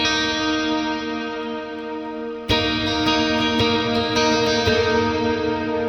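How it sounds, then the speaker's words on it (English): Sustained electric guitar tones through Neural DSP Archetype: Rabea, using the Icicles preset, wash in shimmering, pitch-shifted reverb, with fresh plucked notes ringing out over a dense, echoing pad. "Let's turn the reverb up and turn the pitch of the reverb."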